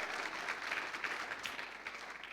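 A church congregation claps together, a soft, even wash of hands that stays fairly distant and steady throughout.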